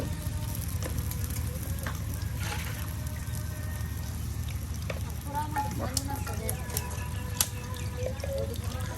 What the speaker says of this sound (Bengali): পাঁচ মিশালি বড়াও কিন্তু এখন একমতো ভাজা হয়ে গেছে এই যে এখন আরও তেল দেওয়া হচ্ছে